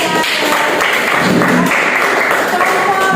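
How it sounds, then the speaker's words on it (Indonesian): Students in a classroom applaud a group with dense, steady clapping that runs throughout, fairly loud and close, with speech mixed in. "tepuk tangan untuk kelompok"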